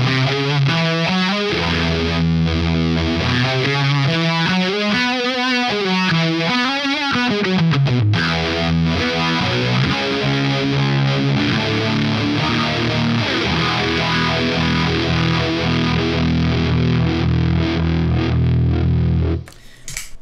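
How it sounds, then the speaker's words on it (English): An electric guitar run through a Phase 90 phaser into a Fuzz Face fuzz pedal plays loud, distorted riffs and sliding notes with a sweeping, swirling phase texture, continuing steadily for about twenty seconds before cutting off. "how about a phase 90 into a fuzz face?"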